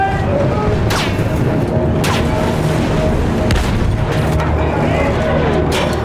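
A field gun fires in a Battlefield 1 battle, several sharp loud booms spaced a second or so apart over a dense din of combat, with shouted voices mixed in.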